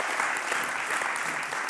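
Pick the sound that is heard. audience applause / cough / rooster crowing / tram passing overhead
audience applause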